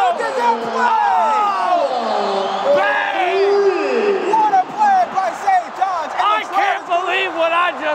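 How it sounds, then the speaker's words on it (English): Basketball crowd at a Putnam vs. St. John's boys state semifinal roars and cheers wildly at the end of the first half, loud and sustained, with an excited commentator's voice on top. "And the crowd's going crazy"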